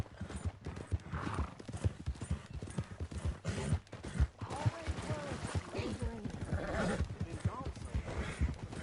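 Horse hooves clip-clopping in Red Dead Redemption 2, a steady rhythmic trot of game hoofbeats with a whinny, running under a voice talking.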